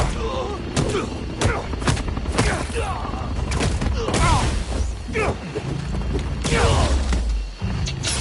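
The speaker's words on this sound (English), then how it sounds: "Opening fire!" Gunfire in the Spider-Man 2 video game, repeated loud bursts and impacts mixed with mechanical clanks and game effects, with some voices underneath.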